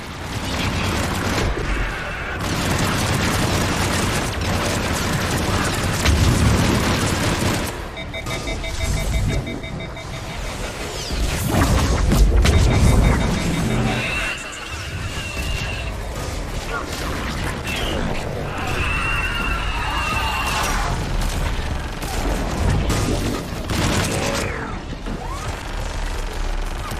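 Heavy missile strikes and rumbling explosions in the sci-fi shooter Mass Effect 3, dense and loud throughout, with booming impacts, crashing debris and a beeping alarm, while characters talk over the chaos.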